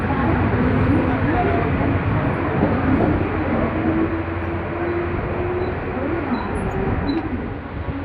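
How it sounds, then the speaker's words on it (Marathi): A Mumbai local train pulls into the station, a steady, loud broadband rumble and rolling clatter that fills the whole stretch and eases slightly toward the end, with voices talking faintly underneath. "चला, लोकल आली।"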